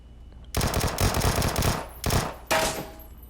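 Rapid bursts of fully automatic fire from a Vector submachine gun in PUBG, three loud, dense rattling strings with short gaps between them.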